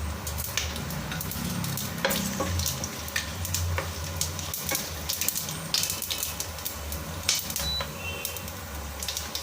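Whole cardamom pods, bay leaves, cinnamon and cloves sizzle in hot oil at the start of a biryani, a steady close crackle with scraping stir strokes throughout.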